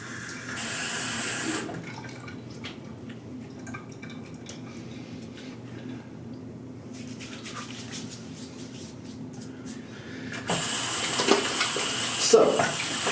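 A water tap runs at a sink to wet a shave stick, a soft steady splash that comes and goes in a few bursts, louder near the start and again toward the end, with quiet handling sounds between.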